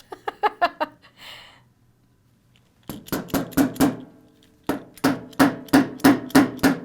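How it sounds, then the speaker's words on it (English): A hammer drives nails into a wooden board on a tabletop during a craft session, with quick bursts of sharp, evenly spaced blows, a short pause between runs, and then two more rapid series of strikes close by. "I am going to use my hammer a little bit there"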